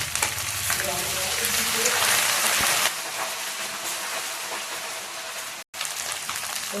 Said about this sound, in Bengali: পেঁয়াজটা লাল লাল লাল হয়ে গেছে, এবার রসুন বাটা আর আদা বাটা দিয়ে দিচ্ছি।